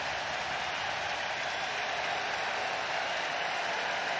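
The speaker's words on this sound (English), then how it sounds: "Crowd making noise." Steady, dense crowd roar at a Brewers–Diamondbacks playoff baseball game in Milwaukee, a continuous even wash of cheering and murmur with no single voice standing out.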